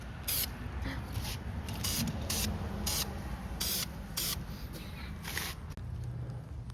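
Primer sprays from an aerosol can onto a corroded Jeep JK door hinge in short, close, hissing bursts, one after another, over a steady low background hum.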